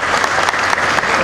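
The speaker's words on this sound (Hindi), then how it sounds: "जोरदार तालियां" At a Shiv Puran katha, a religious gathering, the crowd breaks into loud, dense applause, a continuous wash of many hands clapping close by.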